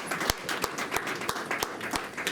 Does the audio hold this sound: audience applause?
yes